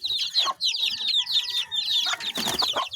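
Mother hen clucking in a backyard chicken coop among chicks, with repeated soft clucks and high chick peeps close by in a steady chatter, no talk.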